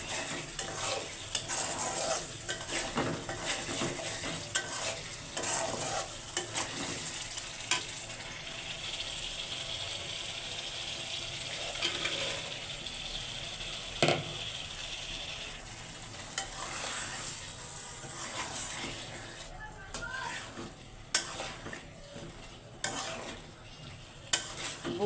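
Spices for a chickpea curry are stirred and fried in a pan, producing a steady sizzle with repeated scraping and clacking strokes for the whole stretch and no talking.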